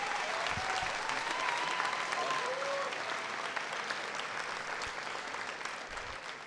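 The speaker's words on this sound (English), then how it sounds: "So let's give Mrs. Callahan a round of applause for her amazing job tonight." A senior awards night audience applauds a staff member, a steady wash of clapping from a large crowd that carries on throughout and slowly tapers, with faint voices underneath.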